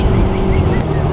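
A Rusi Bantul 125 carburetor motorcycle engine while riding below full throttle, giving a continuous loud rumbling drone with strong vibration and no talk over it.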